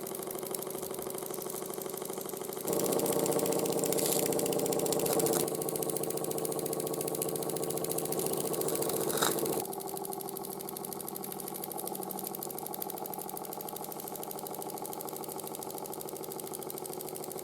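An Ernst Plank 114/1 toy steam engine runs with a steady mechanical hum and hiss, growing louder for several seconds midway before settling back to a constant running drone; no voices.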